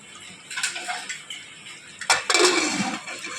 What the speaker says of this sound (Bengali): কুকারের ঢাকনাটাকে বন্ধ করে দেবে।